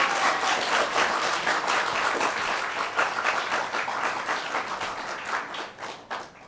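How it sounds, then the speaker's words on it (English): A Year 12 graduation dinner audience gives a big round of applause, dense and steady clapping filling the room close by, holding strong before tapering off near the end. "big round of applause"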